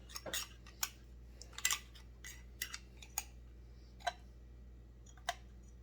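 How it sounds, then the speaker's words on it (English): A pair of scissors trims a part during a Husqvarna 353 chainsaw port job, giving sharp, close snips spaced irregularly over a quiet background, some in quick pairs, with no talking. "good pair of scissors."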